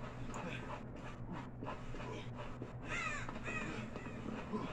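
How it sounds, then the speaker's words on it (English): Crows caw repeatedly in the video game Dead by Daylight, several harsh calls rising over a steady low ambient drone and background game noise. "Yeah, the fucking crows."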